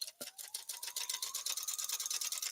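A sewing machine runs fast and close while stitching fabric bowl koozies, its rapid needle chatter going on steadily and alone.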